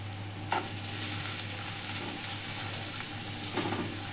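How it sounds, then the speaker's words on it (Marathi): Onion frying in hot oil for a black pea curry, a steady close sizzle and hiss running throughout, with a couple of soft scrapes and taps from a stirring spoon. "तेल तापलेले त्याच्यामध्ये कांदा टाकून घेऊ आणि चांगला असा लाल होतपर्यंत"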